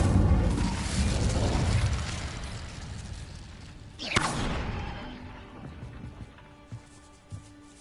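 A fire spell cast in Hogwarts Legacy bursts out as a sharp whooshing blast midway through, over a loud, dense rumble of game sound. A few lighter thuds and pops follow as the noise fades.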